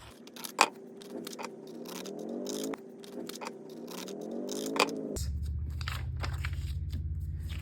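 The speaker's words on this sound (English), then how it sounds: "Same at the top, cut out the excess." Scissors snip through glossy magazine paper, trimming excess from cut-out pictures, with several close crisp cuts and crinkles followed by a steadier low rustle near the end; no one talks.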